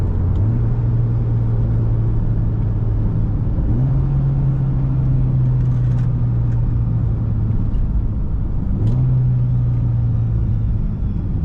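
A Mitsubishi Lancer Evolution X fitted with a test pipe downshifts, heard from inside the cabin as a loud, constant engine drone whose pitch steps up and settles several times over a steady road rumble.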